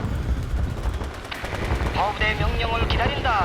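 Dense gunfire and booming strikes from MiG air support and a mortar barrage in the Korean War game Theater of War 3, a steady loud battle roar with rapid bursts, and voices shouting over it.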